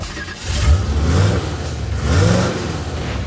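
A powerful hot rod engine revs twice in close succession at a street rod cruise in Potwin, Kansas, deep throaty roars rising and falling, loud and near.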